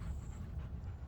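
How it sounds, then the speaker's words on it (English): Dogs pant in soft, rapid breaths close by, a low rhythmic huffing in a quiet indoor room. "dogs, you were panting so loud"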